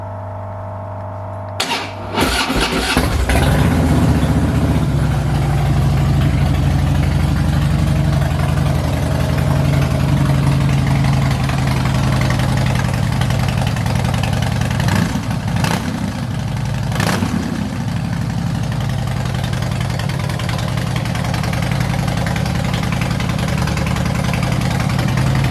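A 2014 Harley-Davidson FXSB Breakout 103 motorcycle engine cranks and fires, sharp starter clatter giving way to a loud, steady, rumbling idle close by, with a couple of brief throttle blips.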